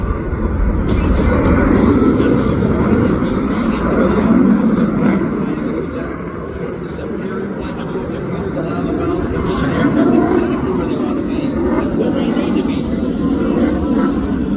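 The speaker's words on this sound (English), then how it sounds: "Observe how that aircraft rotates 180 degrees while in a nearly flat attitude, aptly named the flat pirouette." An aircraft with a Navy crew flying a flat pirouette at an airshow: a loud, continuous broadband engine roar that swells and eases over several seconds, with an announcer talking over it.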